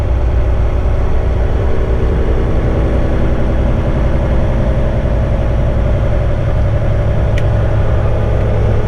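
Heavy haul truck engine heard through an open cab window: a continuous loud, low droning din with steady rumble, no talking over it.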